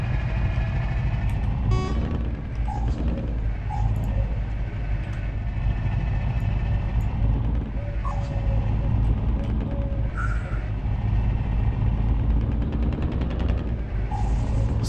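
Truck engine in the video game Truckers of Europe 3, driving a muddy, broken road with a steady low rumble throughout, occasional clunks and brief beeps, with no talk.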